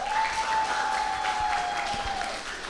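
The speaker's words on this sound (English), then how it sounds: "please give the loudest applause to them too." Audience applause at a student oration event, dense steady clapping from a sizeable crowd, fairly loud and sustained, with a faint steady tone running underneath.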